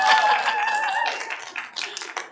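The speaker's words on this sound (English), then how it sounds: "by show of applause, who is here because they love Love Actually?" A theater crowd at a live podcast recording of a Love Actually episode breaks into clapping and some cheering, a busy burst of hand claps with whoops, fairly close and lively throughout the short stretch.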